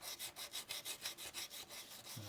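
Glazing putty on a 3D printed part is sanded by hand with 240 grit emery cloth, a quiet close rhythmic back-and-forth scratching of about ten even strokes, alone with no talk.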